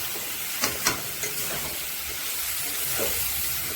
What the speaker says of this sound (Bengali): এখন এইটার সাথে মিশিয়ে একটু সময় কষিয়ে নেব।